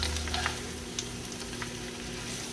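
Food sizzles and crackles as it fries crisp in a hot pan, a close, steady hiss with a few brief pops and no voices.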